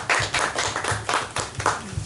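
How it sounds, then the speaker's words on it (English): A small audience at a spoken word gathering claps along in a loose, rhythmic pattern, with bursts of close hand claps recurring roughly every half second at moderate loudness. "Clap up, Connor"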